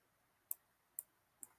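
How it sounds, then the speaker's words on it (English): A computer mouse gives three quiet, crisp clicks spaced about half a second apart against near silence. "I'm clicking a little bit randomly with my mouse"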